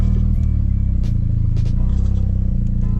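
Mazda RX7 FD3 fitted with an Adaptronic ECU, driving with a loud, steady low rotary engine drone and rumble throughout, brief clattery bursts and road noise layered on top.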